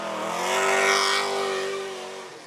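BMW 5 Series drift car revving hard at a drift pit, a sustained loud engine roar that swells and then eases off, with no talking over it.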